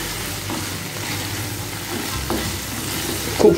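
A frying spice mixture of ginger and green chili paste is stirred together with potatoes in a pan for a Bengali rui fish curry, bringing a steady close sizzle with scraping stirs and a louder clatter at the end.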